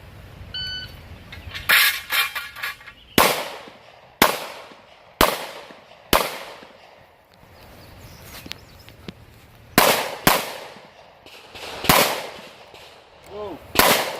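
Pistol shots at an IDPA shooting match ring out as sharp, loud cracks in irregular bursts, some in quick pairs, others spaced a second or more apart, with a brief ringing tone at the start.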